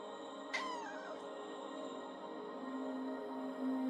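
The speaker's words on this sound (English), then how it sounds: "There is indeed a kitty cat somewhere in this lower half, I think." A cat in the video game The Roottrees Are Dead lets out a single short, falling meow, faint and a little distant over a steady background hum.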